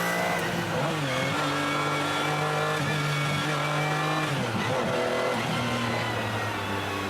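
A McLaren F1 supercar engine drones and revs steadily, pitch rising and falling as it accelerates and shifts, loud and close throughout.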